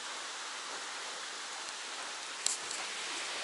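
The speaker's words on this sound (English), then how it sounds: "Still raining today." Steady rain falling on and around an Appalachian Trail shelter, a dense continuous hiss with a brief tap near the end, heard alone without voices.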